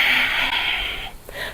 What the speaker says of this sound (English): Nice loud breathing through the nose.